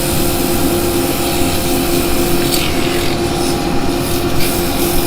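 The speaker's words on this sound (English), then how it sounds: "I'm going to turn the dust extractor on." Continuous steady whooshing drone of a dust extractor running close by in a woodturning workshop, with faint rubbing or sanding sounds over it.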